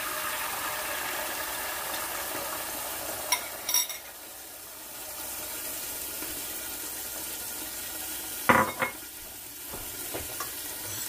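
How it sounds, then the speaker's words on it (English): Eggs frying in a pan for a New York style sausage, egg and cheese sandwich, a steady hiss of sizzling throughout with a few brief stirring clatters, no talking. "I'm going to add the eggs in."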